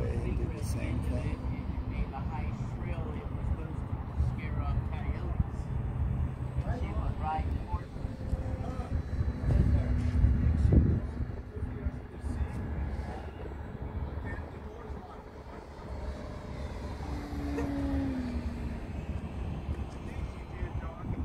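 An FMS Pitts Special 1400 V2 radio-controlled airplane flies aerobatics, its electric motor a steady whine that rises and fades through a roll, heard at a distance under constant wind rumble.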